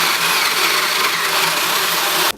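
A loud, steady high-pitched whir of a power drill boring into wood, running continuously before cutting off abruptly at the end.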